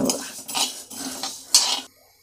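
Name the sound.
adding cumin seeds to a pan and stirring while roasting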